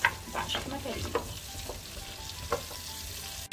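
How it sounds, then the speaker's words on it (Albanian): Carrots frying in a pan with onions and mushrooms, a soft steady sizzle with a few stirring scrapes and clinks, quiet and close. "do i shtoj edhe karota këtu, që të fërgohen edhe karota pas, bashkë me perimet"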